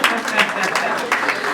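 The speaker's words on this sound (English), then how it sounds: "Nigeria deserves a round of applause." An audience breaks into a round of applause, a dense wash of clapping that carries steadily throughout with a voice faintly present beneath it.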